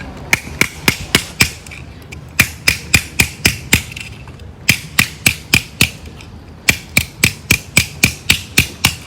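A hammer strikes a wedge in sharp, evenly spaced blows, loud and close, delivered in quick bursts separated by short pauses.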